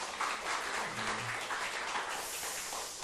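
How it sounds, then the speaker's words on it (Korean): A church congregation applauds with dense, steady clapping that holds at a fairly even level throughout, moderately loud and filling the room. "우리 박수 한번 쳐주세요"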